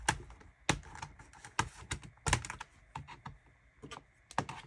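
A plastic screen cover being pulled off a Lenovo ThinkPad X220 or X230 laptop makes a run of sharp, irregular clicks and snaps up close, with uneven gaps between them.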